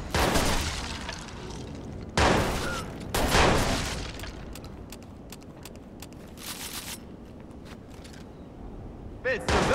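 Gunfire in a shootout from the video game Watch Dogs: loud bursts of rapid shots and sharp cracks in several volleys, with a voice shouting between them.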